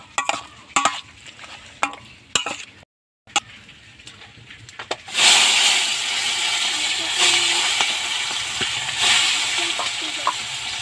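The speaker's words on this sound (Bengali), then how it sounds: "তো চলো মাছগুলো আমি ভেজে নিচ্ছি" Magur catfish seasoned with salt and turmeric drops into a hot wok and bursts into a loud, sustained sizzle after a few sharp clinks, the frying hiss continuing steadily to the end with talk underneath.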